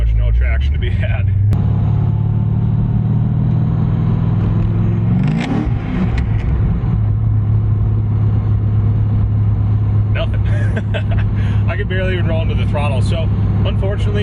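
An LS V8 car revs and accelerates on a snowy road, a loud, steady low engine rumble with a pitch rising midway, heard from inside the car while someone talks over it.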